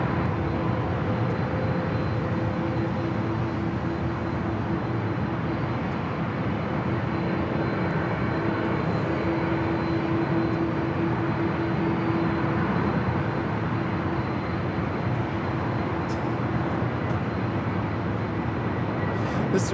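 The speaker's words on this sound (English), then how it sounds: "This arrival Delta Airlines 2122 coming in from Minneapolis. Flight time is 3 hours and 28 minutes on this 2-year-old A321neo." A two-year-old Delta Airlines A321neo jet lands at LAX on arrival from Minneapolis, a steady broadband engine roar with a faint tonal whine holding at constant loudness throughout.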